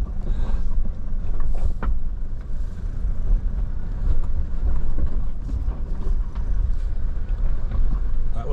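A 4WD vehicle fords and crawls across the rocky bed of the Rakaia River, giving a steady low engine rumble with water wash and knocks from stones under the wheels, close and continuous throughout.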